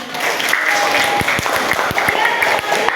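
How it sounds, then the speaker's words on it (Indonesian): Schoolchildren in a classroom clap together in a quick, rhythmic burst, loud and close, with voices mingling over the claps. "Betul, tepuk tangan."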